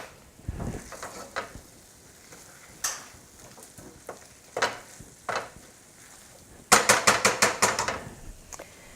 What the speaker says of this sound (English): I'm going to mix everything back together